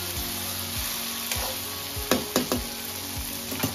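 Eggplant fries in a pan with a faint, steady sizzle, punctuated by a few sharp knocks and clinks of a utensil against the pan.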